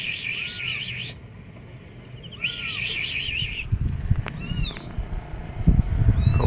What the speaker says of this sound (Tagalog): Tunog dyan. Pusa siguro